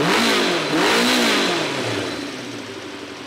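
Vintage Honda CB550 four-cylinder motorcycle engine running during a vacuum carburetor sync, loud and close, revving up and easing back down before settling toward a steadier idle.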